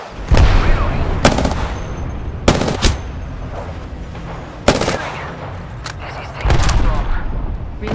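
Bursts of automatic gunfire and single shots in an Apex Legends battle, loud and close, several separate volleys spread across the stretch with a brief explosive hit, while players call out over the fight.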